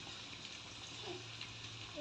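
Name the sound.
vada frying in hot oil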